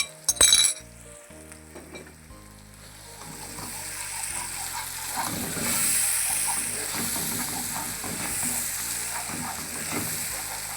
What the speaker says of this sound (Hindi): अब इसको मैं इसी के अंदर, प्याज के अंदर थोड़ी देर फ्राई करूँगा।